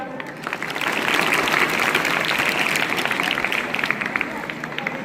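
Applause for a prize winner at an Independence Day celebration, a crowd clapping in a dense sustained wave that swells and holds, with voices mixed in beneath.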